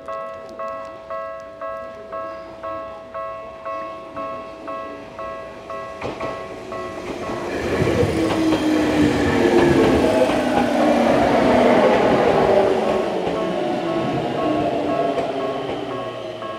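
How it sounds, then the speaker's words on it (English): A train rolls through a Tokyo shopping street, opening with a regular ding-ding of crossing bells, then a loud, close rumble and rail clatter that builds at about six seconds and holds to the end. "let's watch the train. I think it's coming from the left side here."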